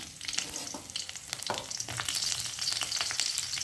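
Fennel seeds, garlic and green chillies fry in hot oil for Jaffna-style puttu kothu, a close, busy crackling sizzle with stirring scrapes throughout.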